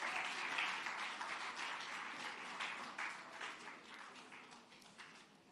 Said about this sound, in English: Please give another round of applause for our sister.